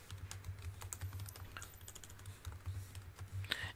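Close computer keyboard typing as HTML code is entered, a steady run of light key clicks at a quick, even pace with occasional louder taps.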